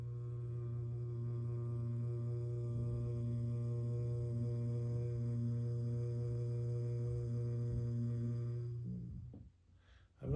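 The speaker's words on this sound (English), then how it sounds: "I begin with a sound that is closed. I don't open my mouth." A single person hums with lips closed, one steady sustained low tone held evenly for about nine seconds with rich overtones, then fading out near the end.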